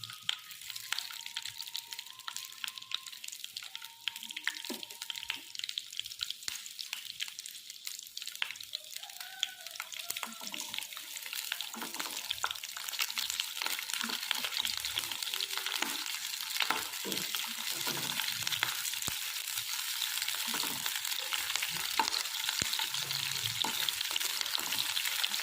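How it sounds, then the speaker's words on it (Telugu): Green chillies sizzle and crackle steadily in hot oil in a pan for a mango pickle, a dense frying hiss with occasional stirring scrapes, close and continuous throughout, no voices. "కొంచెం ఆయిల్ని వేసుకొని ఈ పచ్చిమిర్చిని అయితే ఫ్రై చేసుకుందాం"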